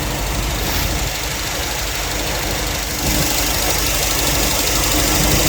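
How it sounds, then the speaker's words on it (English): A 1955 GMC pickup with fuel injection idles, its engine giving a loud, steady, even churn with a fine ticking texture running through it, heard alone without talk. "You can hear the injectors opening and closing."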